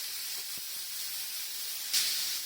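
Chopped garlic and soy sauce sizzle in a little hot oil as a steady, close, bright hiss. A sharper burst of sizzle rises near the end, and nobody speaks.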